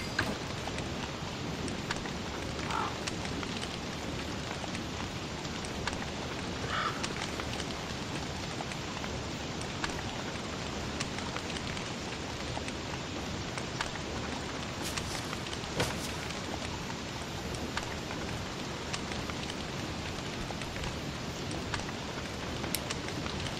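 Steady rain in the Don't Starve video game, a dense even hiss of falling drops that runs unbroken and fairly soft for the whole stretch, with no talking over it.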